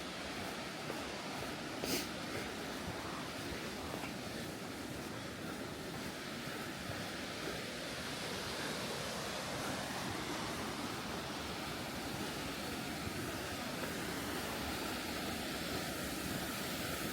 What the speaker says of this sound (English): The water sure is loud.